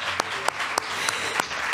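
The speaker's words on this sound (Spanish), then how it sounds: "un fortísimo aplauso para ellos" Steady audience applause for a quiz team taking the stage at a general-knowledge contest, dense crowd clapping with occasional sharper claps punctuating the sustained wash, no voices on top.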